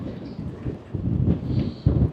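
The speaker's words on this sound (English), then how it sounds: "It is windy." Strong wind gusts over a microphone on a coastal beach walk at Pembrey Country Park, a close, uneven rumble that surges in bursts, with no voices.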